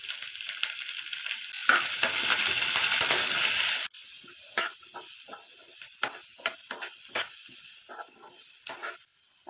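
Onions and a spoonful of turmeric hit hot oil with a loud, hissing sizzle for a couple of seconds, then settle into quieter crackles and pops of frying.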